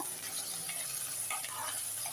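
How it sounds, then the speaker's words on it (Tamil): Oil sizzles in a pan with a steady crackling hiss while onions and curry leaves are sautéed and stirred, close and continuous. "அதுக்காக இதெல்லாத்தையும் சேர்த்து நல்லா வதக்கிடுங்க"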